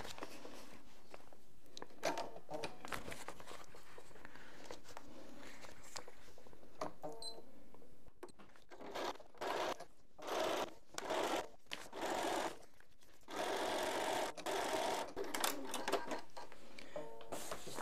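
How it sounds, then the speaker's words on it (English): A sewing machine stitches the fabric sides of a rain cover for lights, with a quiet mechanical whir in short and longer runs broken by pauses and handling clatter. "I'm just going to go ahead and start by sewing the sides."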